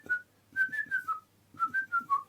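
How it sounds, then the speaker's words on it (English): Someone whistles the Laurel and Hardy tune, clear and close: two short phrases of bright, bouncing notes separated by a brief pause, with no talking. "Do you remember the Laurel and Hardy where they whistle?"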